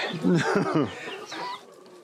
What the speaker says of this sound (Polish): Ten kogut to czubatka polska.